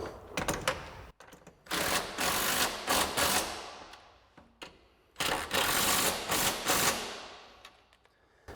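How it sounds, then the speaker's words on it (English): A ratchet fitted with a 13mm socket tightens the bracket nuts on Rough Country BA2 running boards for a 2022-2023 Toyota Tundra. It gives several loud, close, buzzing ratchet bursts, each lasting a second or two. "we're going to tighten up our 2 nuts on each bracket using a 13mm socket"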